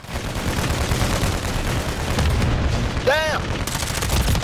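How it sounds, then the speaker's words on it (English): Dense Call of Duty Modern Warfare 3 gunfire crackles in rapid continuous bursts through a Hardpoint match, loud and close, with a brief voice shouting over it. "shooting all over the place"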